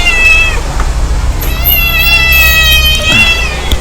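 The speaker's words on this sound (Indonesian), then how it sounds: "Kucing resek nih." A cat meows loudly and insistently up close, giving several drawn-out, wavering cries over a low background hum.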